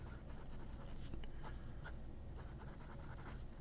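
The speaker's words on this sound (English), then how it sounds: "I also haven't written with this pen in a while." Nib of a Majohn P141 fountain pen scratching across paper in a steady run of soft, close strokes, with no talking.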